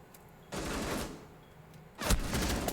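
Gunfire in a competitive video game shooter match between Ice Gaming and Tempest, two loud bursts of rapid shots about a second and a half apart, close and sharp with no talk.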